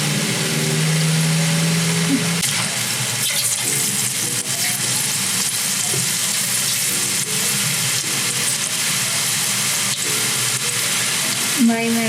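Vada pav snacks frying in hot oil give a steady, dense sizzle throughout, with occasional clinks and stirring sounds on top and people talking faintly underneath.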